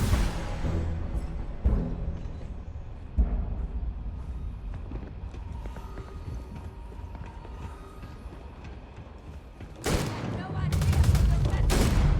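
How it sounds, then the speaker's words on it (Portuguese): Turret gunfire in the Starfield video game: scattered loud, sharp shots early on, then a heavier burst of rapid fire near the end over a steady background rumble. "Mas tem uma torreta, hein?"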